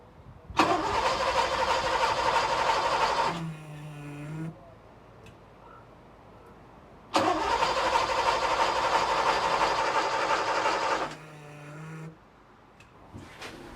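Porsche 928 engine cranking without firing, two long bursts of steady starter-motor churning, each about three to four seconds, separated by quiet pauses, close and fairly loud with a short whirring tail after each attempt.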